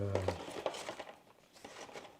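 Paper rustles and crinkles in short bursts, close and fairly quiet, with a soft handling texture throughout.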